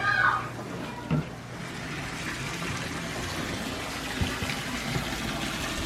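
Water pours steadily into a freshly cleaned garden pond, a continuous close gushing and splashing flow with a few brief knocks and bumps along the way, no talk over it.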